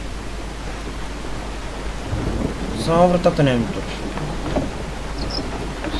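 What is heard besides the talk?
rain and thunder outside in the video game Resident Evil 7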